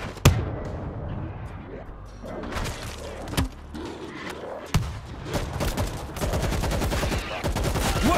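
Gunfire in World War Z breaks out as scattered sharp shots, then builds into dense, rapid automatic bursts toward the end, with voices heard in between.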